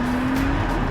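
A Pagani Huayra BC supercar at full throttle, its engine giving a loud, steady, close roar with a high, sustained tone over the brief stretch, no talk.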